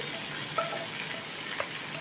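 Grated potatoes frying in a kadai, a steady soft sizzle with a couple of faint clinks of stirring.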